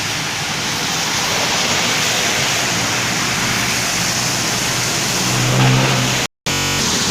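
Heavy street traffic on a slippery, rainy, muddy road, a dense steady wash of many vehicles with tyre spray and engine noise, loud and constant, with one engine swelling past near the end.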